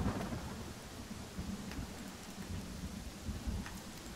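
Steady rain with low rumbling thunder in a video game storm, a continuous dense wash filling the background with a few slightly louder swells and no talking.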